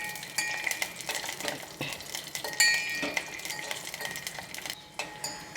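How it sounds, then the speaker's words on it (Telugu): Cashews and raisins fry in a pan with a sizzle, broken up by frequent metallic scrapes and clinks of a stirring spoon, close and busy throughout. "ఒక 10-12 కిస్మిస్ వేసుకుంటున్నానండి. వీటిని ఒకసారి వేయించుకుందామండి కలుపుకొని."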